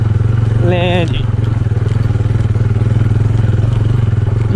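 A motorcycle engine idles and pulls in first gear on a steep mountain track, a loud close rhythmic low thrum running throughout, with someone talking over it briefly near the start.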